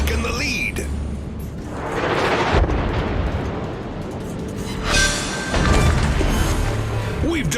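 Naval battle explosions in World of Warships with the battleship Yamato: loud, rumbling booms and crashes that swell and fade over a steady roar of combat, with a voice speaking briefly.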